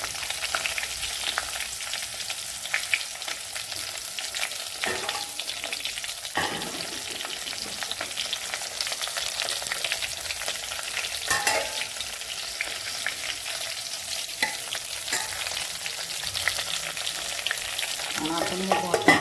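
Eggplant frying in a pan Konkan style, a dense, steady hiss of sizzling oil that runs throughout, fairly loud and close, broken by a few brief clatters, with no talking.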